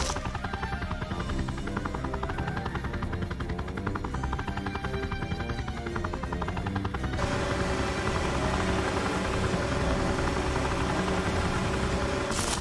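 Rescue helicopter from the Tonka Rescue Patrol video game flying over snowy ski slopes, a steady loud rotor and engine drone that holds throughout, shifting to a fuller, denser tone partway through, with no talking.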